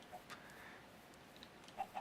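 Minecraft chickens clucking inside a game chicken coop, a few short, soft clucks early on and then two louder ones near the end, over faint background hiss.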